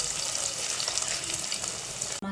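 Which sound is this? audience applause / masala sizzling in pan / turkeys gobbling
masala sizzling in pan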